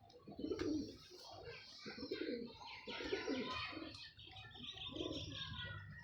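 Pigeons coo close by in repeated soft, throaty phrases, with brighter chirps from other birds behind them and no speech.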